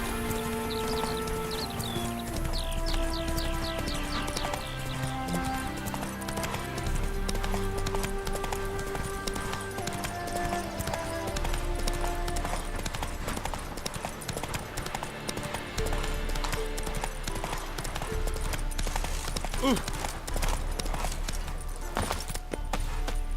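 Horse hooves gallop in The Witcher 3, a fast rhythmic clip-clop that runs steadily throughout beneath game music.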